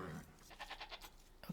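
Sheep bleat in the strategy video game Age of Empires II: a short, faint, wavering bleat sits low in the mix over quiet background sound, with no speech.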